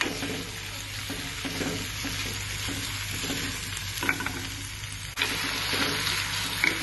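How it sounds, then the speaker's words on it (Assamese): Onion and tomato fry in a pan with potatoes, sizzling steadily while a spatula stirs with periodic scraping strokes, close and fairly loud with a brief dip before the sizzle resumes. "পিয়াজখিনি ধুনীয়াকৈ ভাজি এটা বিলাহীটো দি দিছো"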